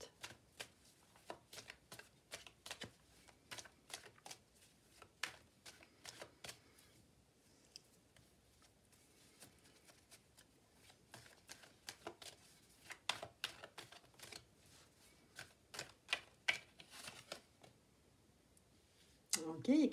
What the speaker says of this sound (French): Je vais faire un tirage en 3 cartes.